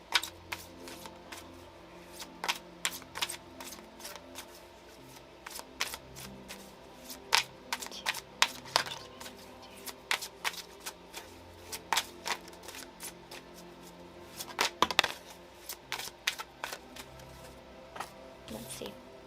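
Tarot cards are shuffled by hand in repeated bursts of crisp riffling and slapping clicks, fairly close and moderately loud, while a person talks quietly in between.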